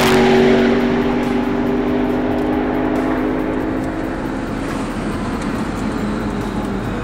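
A McLaren P1 hypercar accelerates along a race track's main straight, heard as a loud, sustained engine roar with a rising tone that eases slightly toward the end, with no talking.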